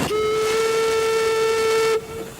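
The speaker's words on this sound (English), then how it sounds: "It's powered by a small steam engine." A steam whistle, likely from the small steam engine powering an elegant river launch, gives one loud steady tonal blast of about two seconds that cuts off abruptly into faint hiss.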